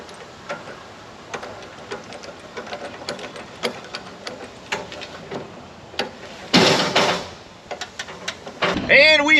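A Diamond C tarp system on a trailer is hand-cranked, making a rapid run of ratcheting ticks and clicks, followed by louder rattling and a rush of mechanical noise near the end.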